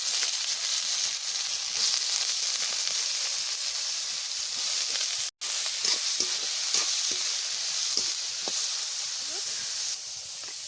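Momos frying in hot oil make a loud, dense, continuous sizzle and hiss that runs steadily throughout, broken once by a brief dropout, with faint stirring clicks beneath.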